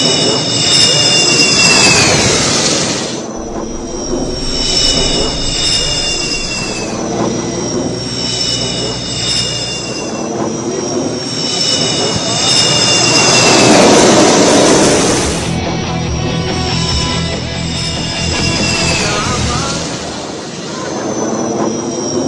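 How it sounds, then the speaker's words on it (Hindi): A Sukhoi fighter jet lands on an emergency airstrip built on a national highway in Barmer, Rajasthan, its engine roaring loudly and continuously with a rising and falling whine. "पहली बार नेशनल हाईवे पर सुखोई की लैंडिंग।"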